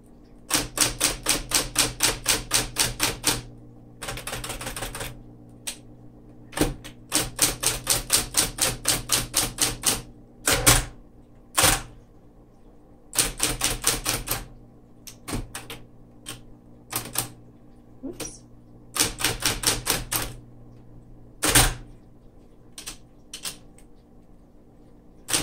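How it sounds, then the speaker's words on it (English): Typing on a 1961 Smith Corona Model 200 electric typewriter: quick rapid-fire bursts of key strikes, separated by pauses and a few isolated clacks, over a steady low motor hum, with no voices. "when you jostle the typewriter around, sometimes the motor will hit the side"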